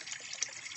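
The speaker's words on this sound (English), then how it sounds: "hopefully you can hear the water" Spring water runs steadily out of a clay pipe beside a road, a constant close splashing gush with no voices over it.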